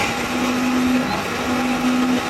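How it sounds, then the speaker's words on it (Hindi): A blender whirs steadily at high speed, blending a rose water skin remedy; the motor drone is loud, constant and close, with no talking over it. "अब मैं इसको ब्लेंड करूँगी।"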